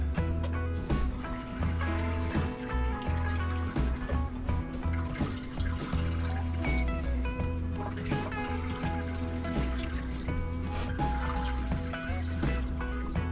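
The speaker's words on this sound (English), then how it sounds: "take some hot distilled water and pour it over the bag, and I'm gonna try and get even more sugar out" Hot distilled water at around 160 degrees Fahrenheit is poured over a bag of grain for a Mexican lager brewed in a bag, giving a steady, close trickle and splash of liquid that runs on without pause.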